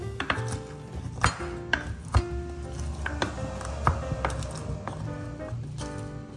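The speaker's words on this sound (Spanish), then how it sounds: "Y procedemos a machacar. Vamos a triturar bien nuestro ajo." Garlic being crushed and ground by hand, likely with a mortar, for an Andean rib broth, with repeated sharp knocks and pounding strikes at an uneven rhythm over a low background hum.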